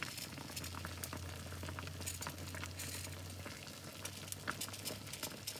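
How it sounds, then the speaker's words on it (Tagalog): Beef soup bones for sinigang simmer in a pot on the stove, a soft steady bubbling with scattered pops and a faint low hum, heard alone at a quiet level. "Kumukulo-kulo na siya yung pinakuluan nating buto-buto."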